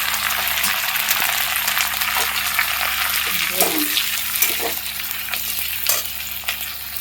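Sliced onions go into a pan of hot oil with ginger that has already fried, cooking for chilli chicken. A loud, continuous sizzle fills the clip, with occasional clinks and scrapes from stirring.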